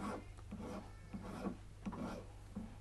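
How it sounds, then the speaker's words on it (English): A file rasps down the corners of a carved wax signet ring in short, regular strokes, soft and close over a low steady hum. "I'm trying to take down the corners, and I'm just filing down"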